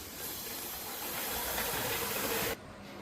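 Air rushes hissing out of a balloon that powers a small car made from an old bottle, straws and bottle caps, a steady, close, loud spray that runs for about two and a half seconds before dropping off abruptly.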